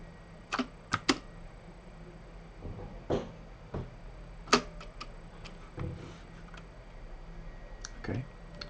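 Keys on a computer keyboard clatter in scattered bursts, a few sharp close clicks spaced irregularly over a quiet room background.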